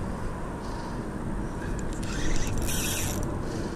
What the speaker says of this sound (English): Boy, I love to hear that braid peel off of that drag.